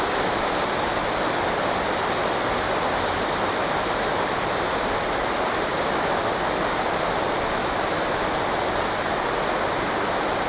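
Steady, even rain pours without a break, with a broad hiss and scattered drops sounding close and fairly loud.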